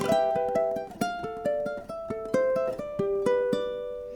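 Plucked ukulele notes picked in a quick, bright pattern, each note ringing briefly over soft chords, played alone and close up.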